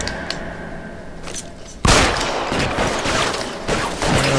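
Gunshots in L.A. Noire: a sudden loud burst of gunfire after a quieter stretch, followed by sustained crackling shots and impacts, with no voices.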